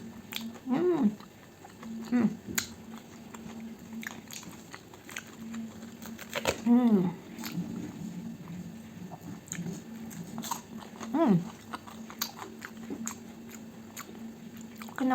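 Someone chews fried breakfast food, potato balls dipped in ketchup, with loud close crunchy bites and mastication repeating every few seconds over a steady low hum.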